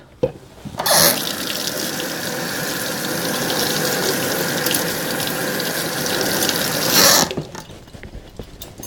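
Mixer paddles from a cake-baking session are rinsed under a running kitchen tap, a loud, steady gush of water that starts abruptly, runs for about six seconds and then cuts off.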